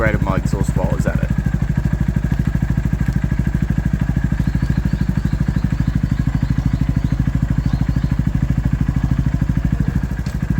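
A 2017 Honda Grom motorcycle with an upgraded exhaust runs close by, its engine putting out a loud, fast, even pulsing thump that holds steady, with brief talk at the start.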